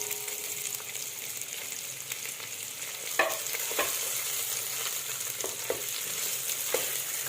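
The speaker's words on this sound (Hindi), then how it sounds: "प्याज को मैं फ्राई कर रही हूँ" Onions fry in oil with cumin seeds, giving a steady moderate sizzle with a few scattered spoon scrapes and soft knocks, and no voices.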